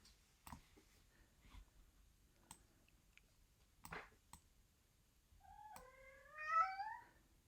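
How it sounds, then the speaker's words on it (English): A pet cat indoors wanting food gives a few rising meows near the end, preceded by scattered soft clicks and taps in a quiet room, fairly faint overall. "Now you can hear my cat."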